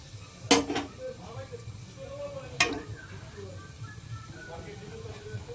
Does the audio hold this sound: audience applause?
no